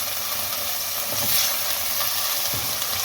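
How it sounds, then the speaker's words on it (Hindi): Chicken keema frying with garlic ginger paste in a pan gives a steady, close sizzle and hiss, with occasional soft stirring scrapes and no talking. "लहसुन अदरक पेस्ट को भी इसके साथ भून लें।"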